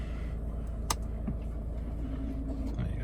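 Peugeot 3008 2.0 HDi diesel automatic in top-spec Allure trim, at about 48,600 miles, idling steadily with a low, even rumble close by, with faint background noises and no talk.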